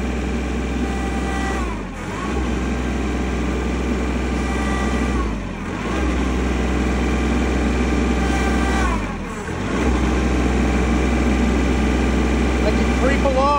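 A Kubota L3301 HST tractor engine with a fuel supply fault runs steadily nearby, a dense mechanical drone that briefly sags three times at regular intervals as it loses power.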